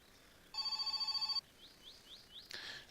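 A telephone rings in the video game My Summer Car: one fast trilling electronic bell burst, fairly faint, followed by soft chirping blips and a brief noisy clatter.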